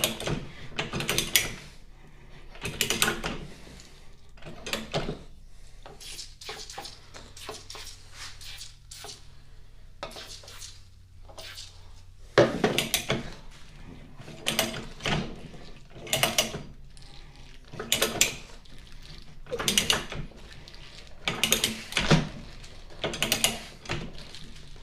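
A threading die cuts threads onto gas pipe, making repeated clicking ratchet strokes and scraping metal bursts in an uneven rhythm, with a steady low hum during a brief pause midway.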